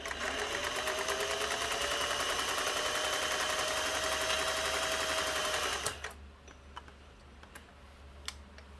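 A Singer 401A sewing machine stitches a zigzag at width 3, running in one steady, close, continuous whir for about six seconds before stopping, followed by a few faint clicks and handling sounds.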